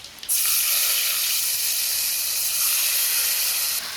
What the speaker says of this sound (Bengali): এখন কালো জিরে ফোড়ন দেবো, সর্ষে বাটা কষাবো